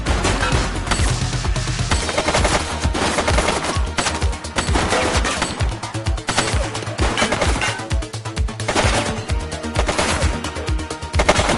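Rapid bursts of gunfire from the police game The Precinct on PS5 rattle almost nonstop, dense and loud, with sharp shots overlapping in quick succession.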